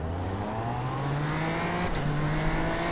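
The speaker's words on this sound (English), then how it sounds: "This car sounds like a bloody Skoda when you start it." Race car engine in the iRacing simulator, a steady droning tone that climbs slowly in pitch as it accelerates, loud and continuous with a brief dip near the middle, no talking.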